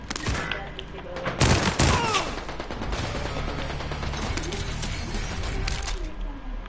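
A video game firefight with a loud machine gun burst near the start, then a sustained clatter of distant automatic fire and battle noise that carries on steadily underneath.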